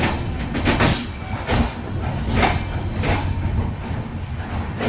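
Tapaswini Express passenger train arriving at Sambalpur station: a steady, loud rumble of rolling coaches with rhythmic clacking of wheels over rail joints, continuous throughout.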